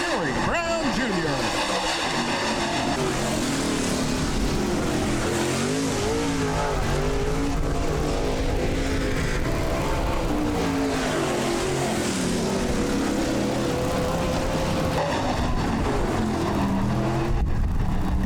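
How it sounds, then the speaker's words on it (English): Midwest Late Model race cars roar around Rapid Speedway during an A feature, with engines loud and continuous, pitch rising and falling as cars pass, while a track announcer talks over the noise. "Midwest Late Models A feature here tonight at the Rapid Speedway."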